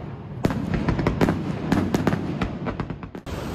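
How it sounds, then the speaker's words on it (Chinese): Fireworks go off outside a hotel in Hawaii, a rapid irregular series of sharp cracks and bangs heard from a moderate distance. "我们酒店外面放起了烟花。"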